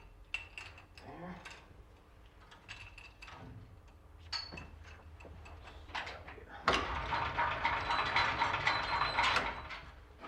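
A fur skinning machine for pulling pelts ratchets with clicking, pawl-like mechanical ticks, sparse at first and then building into a denser, louder stretch of grinding clatter near the end.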